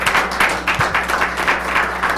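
Audience applause in the Senate chamber, a steady wash of many hands clapping at moderate distance with no voices over it.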